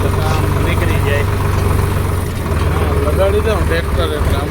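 A tractor engine idles with a steady low throb while being readied to haul a load, running close and loud throughout with a voice talking over it.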